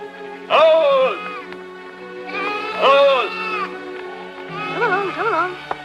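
Three loud sheep bleats, each wavering and drawn out, ring out close by with brief pauses between them.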